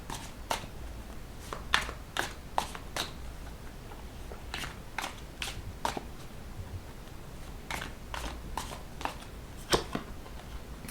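Playing cards are shuffled with a scattered series of sharp, close clicks and snaps over a quiet room background.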